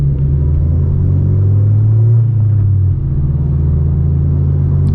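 Low, steady engine rumble inside a 2020 Honda Civic Si with a Phearable Stage 1 tune, driving through town, with a droning hum that shifts pitch slightly midway and holds loud and constant.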